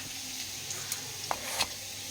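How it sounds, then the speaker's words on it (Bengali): Bitter gourd (uchche) fries in hot oil with a continuous soft sizzle and a few light knocks and scrapes, close and alone. "যে উচ্চা ভাজা হয়ে গেছে"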